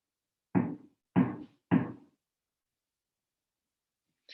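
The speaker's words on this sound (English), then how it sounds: "If you hear some banging, there are builders next door" Three loud, heavy bangs from building work next door, spaced about half a second apart, then a long silence and a faint short sound at the end.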